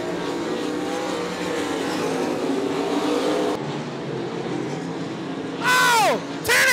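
Race cars roar steadily around Monarch Motor Speedway during a crash and barrel roll, with a continuous engine drone that cuts out, followed by two loud, harsh bursts of scraping noise near the end.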